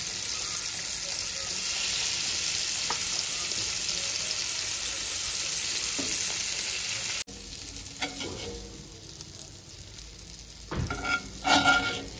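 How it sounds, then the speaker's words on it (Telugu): Ridge gourd mixture fries in oil in a pan with a steady, close sizzle, broken by a few stirring scrapes and brief clatters; the frying continues at a softer level later on, with no one speaking. "ఇదంతా తీసుకొని మళ్ళీ కొంచెం ఆయిల్ వేసుకొని మళ్ళీ ఫ్రై చేసుకోవాలండి"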